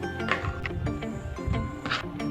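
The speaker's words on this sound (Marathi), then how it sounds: "आता आपण हे मिक्सरमध्ये फिरवून घेऊया।" An electric mixer grinder whirs steadily while blending a butterscotch milkshake made with milk and ice cubes, a continuous motor whine with a few louder surges, moderately loud and close.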